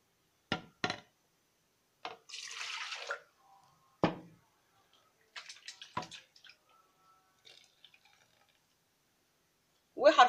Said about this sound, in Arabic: وهضيف لهم كوباية مية من كوبايتين المية اللي معايا